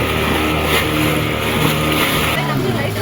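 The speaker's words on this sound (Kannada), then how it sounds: "ಬಟ್ ನಾವು ಬೋಟ್ ರೈಡಿಂಗ್ ಮಾಡ್ತಾ ಇದ್ದೀವಿ" Motorboat ride off a beach in Gokarna, with a loud, steady engine drone and churning water close by, the pitch dropping slightly near the end, while people speak over it.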